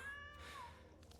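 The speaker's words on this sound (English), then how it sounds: "That's a loud cat." A cat meows loudly, one drawn-out cry followed by a shorter rising meow, heard somewhat faintly in the background of a room.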